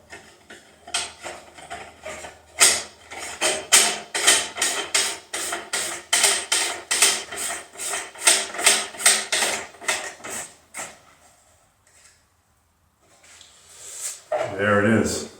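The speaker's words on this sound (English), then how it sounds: "the only thing left to do is tighten everything down." Rocket parts tightened down with hand tools, a rapid run of loud close ratcheting clicks for about ten seconds, then a pause and a short burst of rustling.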